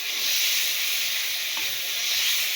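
Soy sauce and chili sauce stirred in a hot pan for a kabab recipe make a steady, bright sizzle and hiss that holds evenly without pause and without talk.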